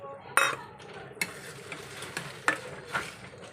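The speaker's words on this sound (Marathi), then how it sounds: "कोथिंबीर घालून परतून घ्यायचं आहे" Coriander is stir-fried into the masala for paneer butter masala, with a spoon scraping and clinking against the pan in several sharp strokes over a faint, low sizzle.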